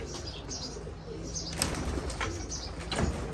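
Pigeons in a loft give low, soft coos over a steady rustling background, with a few brief flutters and taps.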